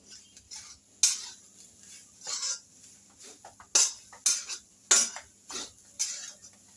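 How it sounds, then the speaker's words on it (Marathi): A spoon stirs milk powder into grated coconut already fried in ghee in a pan, giving close, intermittent metallic scrapes and clinks with quiet gaps between strokes. "याला छान असं खोबऱ्यामध्ये मिक्स करून घ्यायचं आहे"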